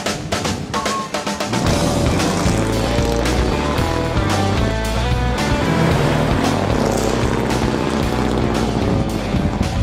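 A car engine runs loud and close for about ten seconds, a steady deep rumble with a rich, throaty tone that swells slightly as it revs.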